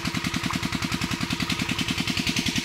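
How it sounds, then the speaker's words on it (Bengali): An irrigation pump engine runs in an open farm field, its steady mid-pitched thumping beat repeating quickly and evenly like an idling single-cylinder motor, close and continuous with no talk. "সবাই জমিতে এখন এই ওখানে জমিতে জল দিচ্ছে, ওখানে মেশিন চলছে।"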